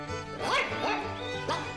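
A small stray puppy in the Toca Boca video game yips and barks in a few quick, high, bright cartoonish bursts, close and clear over a faint game background.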